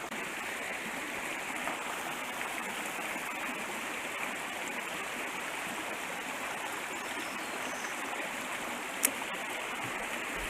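A mountain brook in the Allegheny Mountains flows steadily with a broad, close rushing and hissing wash of water over rocks, constant throughout with one brief click near the end and no talk.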